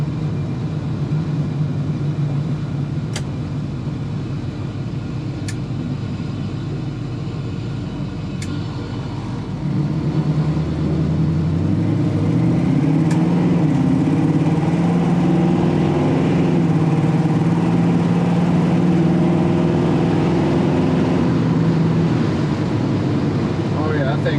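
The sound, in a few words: 1966 Chevrolet Nova 383 V8 engine accelerating and shifting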